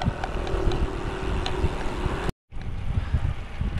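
Strong headwind buffets the microphone with loud, continuous low rumbling roar, briefly cutting out to silence before resuming just as heavily.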